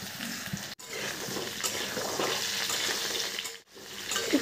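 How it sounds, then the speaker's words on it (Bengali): Raw mango pieces dropped into hot oil with panch phoron spices in a pan give a loud, steady sizzling hiss that fills the whole stretch, briefly dipping twice as the pieces go in. "তারপর কেটে রাখা আমগুলো এর মধ্যে দিয়ে দিচ্ছি।"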